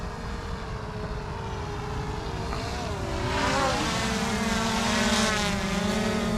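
A continuous whining propeller buzz from a Splash Drone 4 in flight, shifting pitch as it moves, growing slightly louder midway, with no talking.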